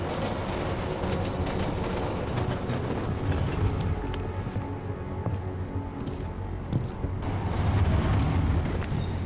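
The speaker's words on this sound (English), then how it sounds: "We will now travel to Palisade Bank via the subway train." A subway train ride in the video game Deus Ex Mankind Divided: a loud, continuous rolling rumble with metallic wheel squeals running throughout, building slightly near the end, with no speech.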